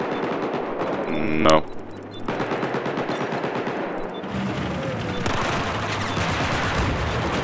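Gunfire and explosions in Battlefield 4 on the Shanghai map during a tank fight, a dense, loud barrage of shots and blasts that rolls on continuously, with a player's brief speech partly over it.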